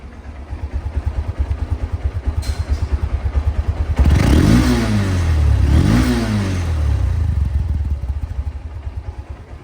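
A 2022 Honda CB Hornet with CBS brakes runs close by, idling with a steady pulsing beat, then revving up twice in smooth rising and falling swells before settling back to idle.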